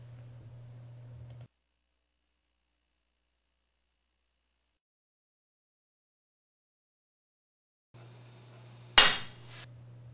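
A billiard cue tip miscues on a cue ball, struck just beyond the tip offset limit; a single sharp, loud click rings out near the end, preceded by faint low hum and otherwise near silence.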